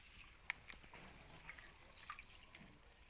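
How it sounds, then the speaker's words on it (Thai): Water is shaken off freshly washed organic vegetables, leaving scattered faint drips and small splatters that patter irregularly and quietly at close range, with no voices. "เราจะสลัดน้ำก่อนนะคะ ให้น้ำเขาออกจากเนื้อผัก"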